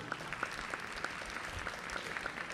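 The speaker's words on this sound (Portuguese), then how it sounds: "Uma salva de palmas" Applause from the audience at a Social Worker's Day celebration, a dense, steady crackle of many hands clapping at a moderate distance, sustained throughout with no speech.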